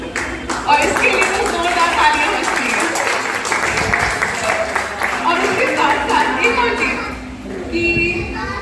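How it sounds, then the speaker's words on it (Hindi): Loud, sustained clapping and cheering from a family crowd at a retirement celebration, the applause rolling on for several seconds with voices and children's chatter mixed in and tapering near the end. "इसके लिए तो जोरदार तालियां बजती हैं"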